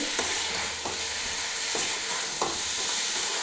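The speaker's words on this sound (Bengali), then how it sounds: "এবারে ভালো করে মশলাটা মিশিয়ে নিচ্ছি।" Spice mix being stirred into goat meat in a pan, with papaya in the dish: scraping spoon strokes recur about every second over a soft, steady sizzle, close and moderately loud.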